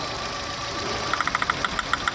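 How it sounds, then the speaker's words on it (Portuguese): VW Golf 1.6 8v engine running rough with a misfire from a faulty ignition coil, a steady close hum that breaks into a series of sharp, uneven ticking knocks in the second half. "o motor começou a falhar mais ainda"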